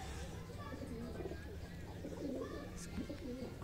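Soft coos from a high-flying pigeon repeat in low, throaty bursts, fairly close, over a faint background hum.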